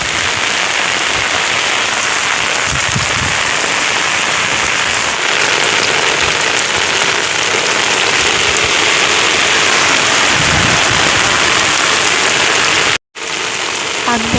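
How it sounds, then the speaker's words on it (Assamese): Heavy wind-driven rain pours down in a loud, constant roar of drops hitting surfaces, broken only by a brief dropout near the end. "বতাহ বৰষুণ একদম পুৰা দিছে"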